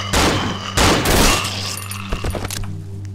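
Loud bursts of rapid gunfire in the horror video game Cry of Fear, two heavy volleys close together followed by a few scattered single shots and clatter, over a steady low droning hum.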